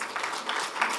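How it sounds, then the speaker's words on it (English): Short burst of steady applause from the audience at a banking industry sustainable finance summit, a soft, even patter of many hands with no voices standing out. "Let's give her a warm round of applause"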